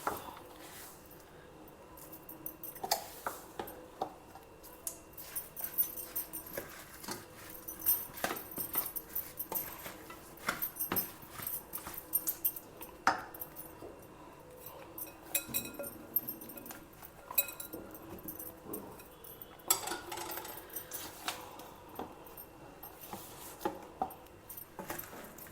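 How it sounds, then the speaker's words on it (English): Cut raw mango pieces are tossed with masala by hand for a homemade avakai pickle. Soft, irregular clinks and rustles of the mixing vessel run throughout at low volume, with no talking. "Add in this masala and mix."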